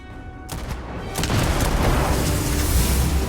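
A loud, booming explosion in Starfield erupts about a second in and swells into a sustained roar of blast and debris, heard close with no talk over it.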